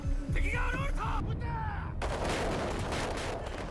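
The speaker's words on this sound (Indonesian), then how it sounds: "mereka pun mulai menembakkan meriam." Several heavy booming shots of ship cannon fire ring out, followed by a dense, roaring wash of rumbling noise.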